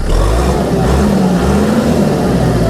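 A loud, steady four-cylinder Kubota MK5000 tractor engine rumble with a deep low drone and a slightly rising tone, running continuously without pauses.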